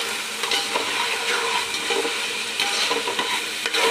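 Onion and ginger-garlic paste sizzle and fry in a pan while being stirred, a loud continuous crackle with scraping stir strokes, close up and without voices.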